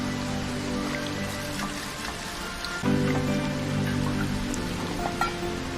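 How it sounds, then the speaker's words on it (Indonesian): Steady, dense rainfall patters across the whole stretch, a continuous wash of drops with faint tonal hum underneath and no talking. "Hujan turun sangat deras"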